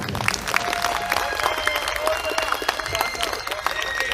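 Audience applause at a CRPF 27th Battalion New Year and Raising Day celebration, a dense mix of clapping from a large crowd sustained for several seconds, with some voices in the hall.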